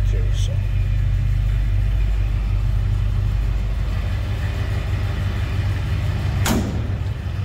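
A 1968 Chevrolet C10 pickup idles after a cold start, a steady low rumble through newer exhaust, with a brief sharp knock near the end like a door closing.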